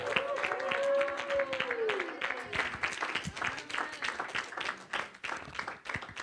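A church congregation applauds in praise during a French-language service, dense continuous clapping with a sustained sung or shouted voice over the first couple of seconds.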